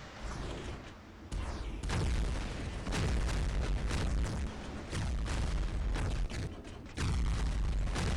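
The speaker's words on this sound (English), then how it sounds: "that guy just fired at us" Enemy robot weapons pound against an energy shield in the game War Robots: dense, loud booming blasts and rumbling impacts roll almost continuously, with sharp bursts layered over a heavy low roar.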